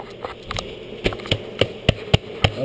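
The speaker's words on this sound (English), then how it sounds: "And you can hear the bees in here." Bees trapped inside a bee removal canister make a steady hum, broken by a series of sharp taps and knocks at an irregular rhythm, close to the microphone.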